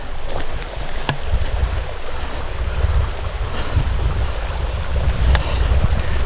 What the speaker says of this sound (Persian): یک آبشار هست که خیلی زیبا